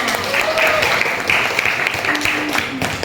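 Classroom audience clapping for a student group after a presentation at a senior high school, dense steady applause lasting throughout, with faint voices mixed in.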